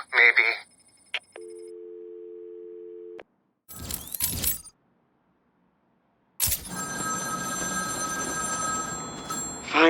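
A telephone in Batman: Arkham City rings with a loud, sustained electronic trill near the end, after earlier tones and beeps, a burst of speech and a silent gap.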